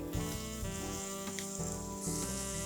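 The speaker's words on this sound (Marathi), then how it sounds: "आता आपण ह्याच्यामध्ये बारीक चिरलेला बटाटा घालणार आहे" Finely chopped potato pieces tipped into a pan of cooking onions, setting off a steady, close oil sizzle with a few brief clatters, and no voices.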